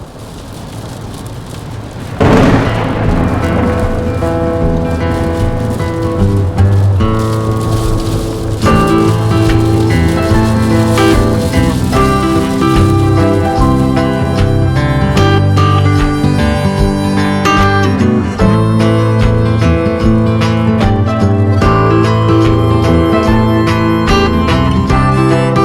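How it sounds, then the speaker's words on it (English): A thunderstorm with heavy rain during a camping trip on the Yorke Peninsula, a dense, loud, continuous roar of downpour that swells sharply after a couple of seconds and stays steady throughout, with low rumbling underneath and no voices. "hopefully we can outrun this storm"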